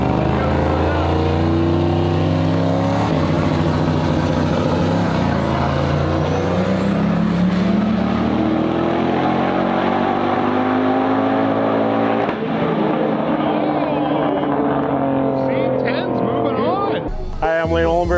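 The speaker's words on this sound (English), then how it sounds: "We got a four-wheel drive turbo LS Silverado here on the line" A four-wheel drive turbocharged LS-powered Silverado drag truck idles and revs at a no-prep drag race, a loud, deep engine drone with rising and falling tones, crowd and other vehicle noise around it, speech mixed in.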